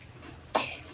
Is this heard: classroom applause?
no